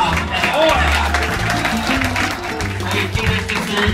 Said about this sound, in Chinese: 可以给一些掌声吗